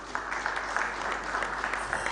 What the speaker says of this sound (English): Give a round of applause, sir.